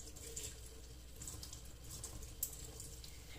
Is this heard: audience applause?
no